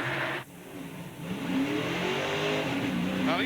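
Mark Martin's NASCAR race car rolling down pit lane during a pit stop at the 1999 Jiffy Lube 300, engine droning and rising in pitch close by, loud and continuous amid track noise.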